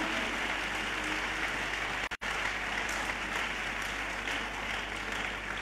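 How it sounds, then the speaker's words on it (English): A church congregation applauds during a Saturday conference session: dense, steady clapping fills the hall at moderate loudness, broken by a brief dropout midway. "Your clapping is weak."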